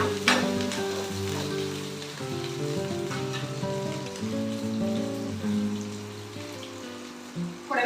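Small shallots sauté in hot oil in a pan, a continuous close sizzle and crackle with a humming tone underneath and a few stirring knocks.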